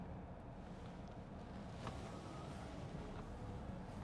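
The air conditioning of a 2015 Audi S4 3.0 TFSI V6 runs on full blast inside the cabin, a steady, fairly quiet broadband rush of blowing air with no talking.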